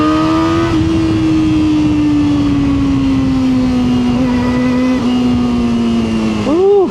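A Kawasaki ZX4RR motorcycle pulls hard in second gear, its high-revving engine note climbing steadily and loud and close, with a quick blip and rev change near the end.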